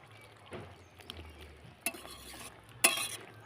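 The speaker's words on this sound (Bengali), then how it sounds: "এই দেখুন এখন আমি আলুগুলোকে ঘেঁটে ঘেঁটে দিচ্ছি" Potatoes stirred through a cauliflower-stem curry in a pan, soft frying and shuffling under a few scattered scrapes and two sharp metallic clinks, quiet and close with no speech.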